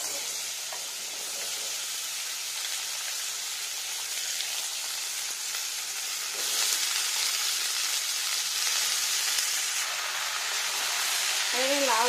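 Bottle gourd goes into a hot pan with five-spice tempering and sizzles in a steady, bright hiss that swells louder partway through, close by with no talk.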